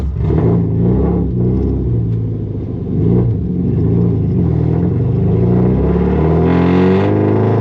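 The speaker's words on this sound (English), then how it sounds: "give it a little gas and try to just get everything moving again" A Nissan 240SX manual that has sat for five years revs loudly up close, its engine rumbling and climbing in repeated swells of throttle, with no one talking.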